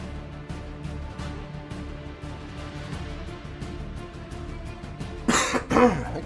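A man clears his throat and coughs a few times near the microphone toward the end, after a stretch of quiet game background sound from a space strategy match.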